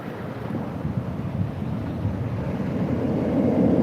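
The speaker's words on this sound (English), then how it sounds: "It's them waves coming in" Ocean waves roll in against the shore, a broad low rumbling wash mixed with wind buffeting the microphone, building gradually louder toward the end with no talking.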